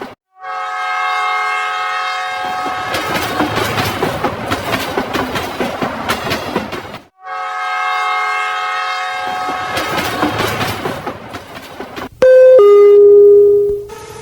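A train running on rails in a Bengali horror cartoon: two long loud horn blasts over a heavy rumbling clatter, separated by a brief gap, ending with a short sharp tone.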